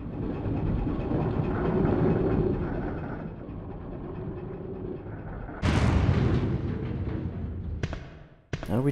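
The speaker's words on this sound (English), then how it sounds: "We just gotta sit here and wait for the dang train to get where it's going." A moving train in the video game Resident Evil 2 gives a steady loud rumble throughout, with a sudden louder rush partway through and sharp bangs near the end.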